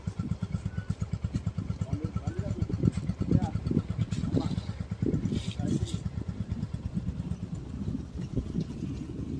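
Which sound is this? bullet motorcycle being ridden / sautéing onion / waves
bullet motorcycle being ridden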